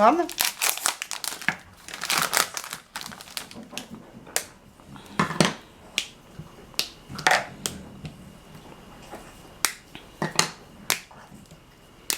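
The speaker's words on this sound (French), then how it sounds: "je vais ouvrir les deux tablettes" Two 100 g white chocolate bars are unwrapped for a white chocolate and coconut fondant cake, with close crinkling of the wrappers, sharp tearing snaps and foil rustles arriving in bursts while people talk between them.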